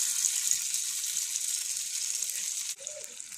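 Masala-coated paneer sizzles steadily on a hot dosa pan, a close, even frying hiss that carries on without a break, followed by a brief scrape near the end.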